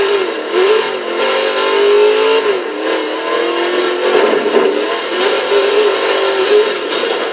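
A 1972 Chrysler VH Valiant Charger R/T E49 with a maxed build roars in Forza Horizon 3, its engine droning loud and close, the pitch rising and dipping as the throttle shifts, steady and unbroken throughout with no talk over it.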